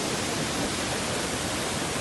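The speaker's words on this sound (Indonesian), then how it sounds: "jadi saat ini kita sudah berada di air terjun 1" A forest waterfall at Batu Kumila in Mamasa, Indonesia, pours out a dense, unbroken roar of rushing water, loud and close, with no voices over it.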